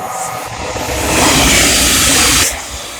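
A Thameslink Class 700 electric train rushes past at Welham Green on the East Coast Main Line, a broad rising roar that swells close, holds, then cuts away quickly.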